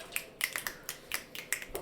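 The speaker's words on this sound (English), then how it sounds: "We're limited to a one finger snap over here." Finger snaps, about a dozen sharp, dry clicks in an uneven quick rhythm, close and clear against a quiet room with no talking.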